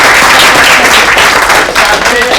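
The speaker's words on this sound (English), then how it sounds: "round of applause" A conference audience gives a round of applause at the close of a property and trading talk, dense, loud and sustained clapping that fills the whole moment without a break.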